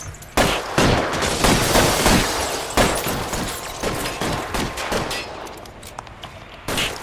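Gunfire in the video game L.A. Noire: a close, loud run of rapid shots and bursts with sharp repeated reports across the whole stretch, then a brief lull before a final shot, with no voices.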